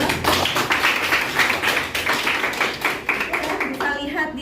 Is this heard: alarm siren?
no